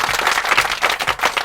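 Applause effect from a video board game, a short burst of dense clapping at steady volume, fairly loud and close, with no one speaking over it.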